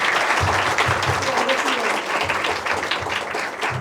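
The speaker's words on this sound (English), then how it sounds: "A big round of applause for ma'am" Audience applause for a guest fashion designer at a fashion institute fire-chat event, a steady wash of many hands clapping that fills the whole stretch at full, even loudness.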